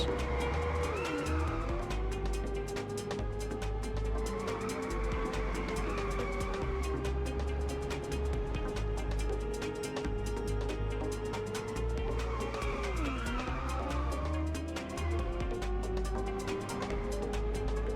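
Car drifting in the racing video game Inertial Drift, a continuous loud engine drone with a rising and falling pitch, overlaid by recurring tire squeals as it slides through corners, with no talking.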